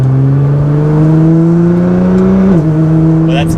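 Modified 600 WHP Nissan GT-R running on a rich pop-and-bang fuel tune, its engine droning loud and steady with rising harmonics, a brief dip near the end, then crackling pops as the revs change.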